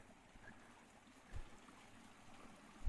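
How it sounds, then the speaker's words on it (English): A small brook flows steadily through the night outdoors, a faint, continuous trickling wash with a couple of soft low thumps, no voices. "The whole night you just hear this kind of little brook."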